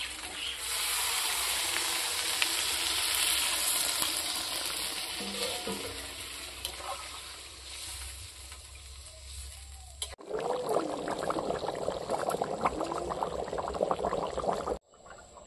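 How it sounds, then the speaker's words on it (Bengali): Water being poured into a pan of frying mutton and potatoes for a thin curry, a rushing, bubbling stream with hissing that shifts into louder sizzle partway through, no speech. "আমি ঝোলের জন্য এখন জল দেবো।"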